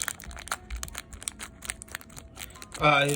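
Scissors cut through the plastic packaging wrapped around a reproduction windshield for a 1968 Redline Hot Heap, giving a close crinkling, crackly run of snips that ends in a louder burst of rustling.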